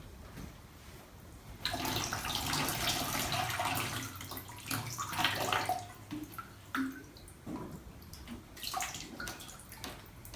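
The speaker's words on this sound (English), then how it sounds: "Just going to water it," Water pours steadily into the soil of an indoor houseplant, a close, sustained splashing and gurgling that starts abruptly and then breaks into uneven trickles and drips near the end.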